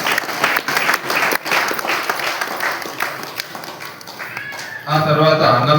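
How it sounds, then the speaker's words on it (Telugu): Loud audience clapping from a crowd, a dense sustained burst of applause lasting several seconds, with a voice talking over the end. "అందరూ గట్టిగా చప్పట్లు కొట్టండి"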